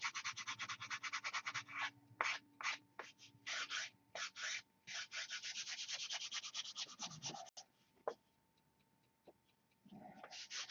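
A wooden stunt model airplane part is rubbed by hand, producing bursts of dry brushing strokes in uneven rhythm, close and quiet, with a few pauses and light knocks toward the end.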